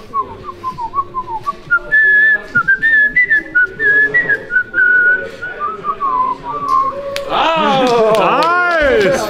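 A man at a concert in Plzeň attempts to whistle, producing wavering, sliding tones over crowd noise and then a burst of loud cheering from the audience.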